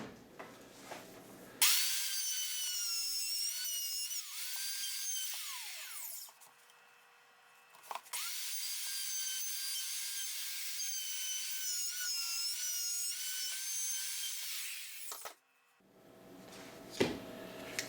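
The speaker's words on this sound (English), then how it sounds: "my Ryobi 2 horsepower plunge router just died" A Ryobi 2 horsepower plunge router whines at a high, steady pitch while cutting wood for a vertical beehive, running in long sustained stretches that briefly cut out and resume, with the motor spinning down at the end.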